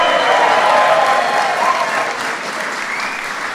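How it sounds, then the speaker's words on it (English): Loud, dense clapping from a big crowd at a St. Patrick's Day event at the White House, greeting the Taoiseach's wife Fionnuala, sustained and gradually easing off. "His wife, Fionnuala, give her a bigger round of applause."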